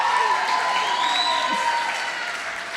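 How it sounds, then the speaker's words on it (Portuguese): Warm audience applause greets a bride at an event in Campo Grande, dense steady clapping with a few whistles and cheers, fading slightly toward the end. "com uma salva de palmas bem calorosa, a noiva mais linda de Campo Grande"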